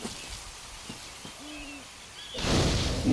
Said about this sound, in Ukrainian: тут вже пташки співають